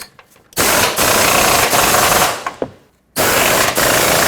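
A power tool rattles in long, loud, rapid impact bursts while snugging upper control arm bolts on a 2009-2014 Ford F-150, with brief pauses and a quiet gap between runs.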